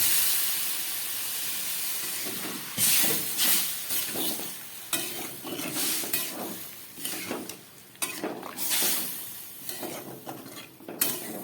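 Water poured into a hot pan of lentils and rice that have been sautéed, bursting into loud hissing steam and sizzling, then settling into bubbling and stirring clatter with a few sharp pan knocks, with no one talking.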